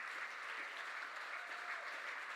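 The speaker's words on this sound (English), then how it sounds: "please keep the applause going for our 37th inductee" Steady audience applause at a hall of fame induction ceremony for a bowling club member, dense continuous clapping throughout, fairly distant and even in level with no break.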